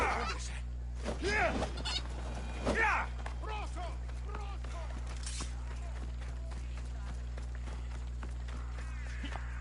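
Chickens clucking in the Assassin's Creed Odyssey video game, with several short bird calls near the start under game ambience and a steady low hum running throughout.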